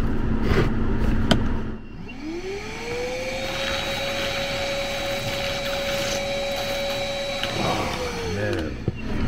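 A Milwaukee wet vacuum runs steadily for several seconds, sucking out a clogged AC drain line, with a rising whine as the motor spins up and a sustained tone, then a clatter as it shuts down.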